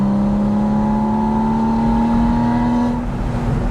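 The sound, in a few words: Porsche Spyder engine induction sound while accelerating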